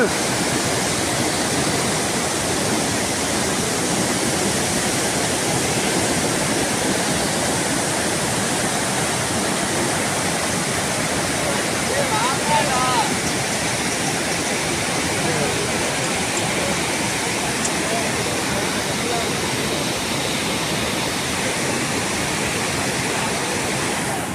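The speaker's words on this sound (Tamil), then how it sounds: "இன்னும் தண்ணி ஓடுது" Water flows steadily along a pilgrimage path to Sabarimala, making a continuous broad rushing sound like a stream or small waterfall that stays even and fairly close for the whole stretch.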